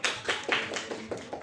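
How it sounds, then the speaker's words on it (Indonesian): A short burst of applause, several quick claps at an irregular rhythm, moderately loud with no voices, after a group presentation in a group guidance session. "tepuk tangan dulu"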